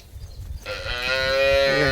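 A second-lactation Holstein Friesian cow gives a single long, loud, close moo that starts after a brief quiet moment and swells into a sustained harmonic call.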